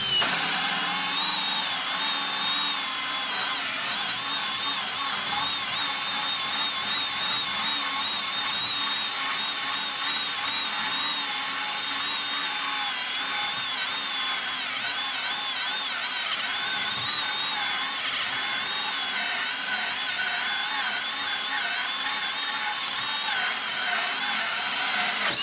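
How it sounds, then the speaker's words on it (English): A Kobalt brushless hammer drill bores a 3-inch hole, giving a loud, continuous high-pitched whine that holds steady and close for the whole stretch with no talk. "Let's see how well this performs with drilling a 3-inch hole."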